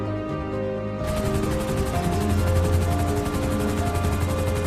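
A cartoon helicopter sound effect in an animated zombie story rises abruptly to a rapid, pulsing rotor chop blended with a droning tonal hum, steady and fairly loud for several seconds.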